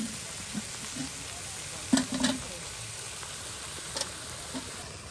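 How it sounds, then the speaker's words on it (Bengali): Tender bottle gourd pieces being stirred into a fried ground spice paste in a pan for an egg and gourd curry, a soft steady sizzle with a few scraping stirs near the middle and end of the mix. "একদম মশলার সাথে লাউগুলো মিক্স করে নেওয়া হচ্ছে।"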